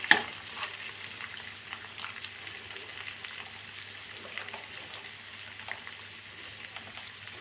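Pepper chicken dry fry cooking on a slow flame, giving a steady soft sizzle with light scrapes of stirring, moderately close and fairly quiet, with no talking.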